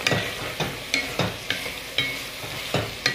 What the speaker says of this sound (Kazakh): Барлығын жаңа еттің жуаның үстіне салып қуыратын боламыз